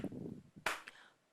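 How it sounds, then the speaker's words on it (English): Single sharp hand claps, one clear clap followed by a softer one and another at the end, mark breathing counts in a quiet room, close and fairly soft, with a murmur of voice at the start. "So my clapping is going to go like this."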